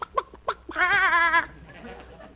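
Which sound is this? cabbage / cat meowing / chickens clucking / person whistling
chickens clucking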